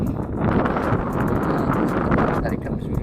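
Strong wind buffets the microphone outdoors during a fishing trip, a steady loud broadband roar filling the whole stretch with no clear pauses.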